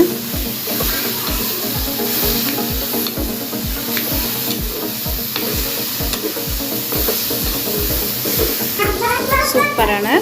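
Radish fry with curry leaves is stirred in a pan, a spatula scraping in a steady, regular rhythm over a continuous close sizzle that stays loud throughout, with no talking.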